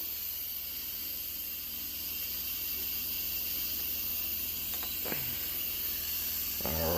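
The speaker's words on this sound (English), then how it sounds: "I'm releasing what little pressure it has left." An electric pressure cooker vents its last remaining steam pressure in a continuous, even hiss that holds at a steady level throughout, with faint mechanical clicks near the end.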